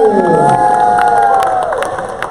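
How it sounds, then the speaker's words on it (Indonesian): Audience at a Christmas dog show cheers loudly with shouting voices, a dense crowd roar filling the short stretch and easing slightly toward the end. "Beri tepuk tangan sekali lagi"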